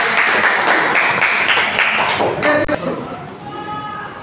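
Classroom applause as students clap for a presenting group, a burst of dense clapping that fades after a few seconds, with voices mixed in.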